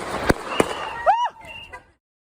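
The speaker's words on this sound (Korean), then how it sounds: "곧바로 총성이 연달아 울립니다" A rapid succession of gunshots rings out in news footage of agents approaching a red car on a road, two sharp cracks followed by an echoing burst and tail, with a voice briefly heard.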